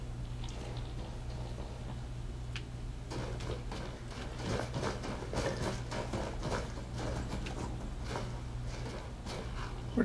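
A horse's hooves clip-clop in the video game Skyrim, a steady run of fairly faint, rhythmic hoofbeats over a low constant hum, with no talking.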